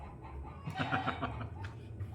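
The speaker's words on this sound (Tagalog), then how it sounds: "Manok, yan ang manok." A chicken clucks in a short burst of soft, repeated notes over a low rumbling background, moderately close and not very loud.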